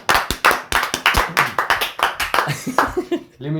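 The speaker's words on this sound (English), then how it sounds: "Let's give Liam a round of applause." A small audience claps for Liam, sharp, rapid claps from a handful of people close by that thin out toward the end, where a voice breaks in.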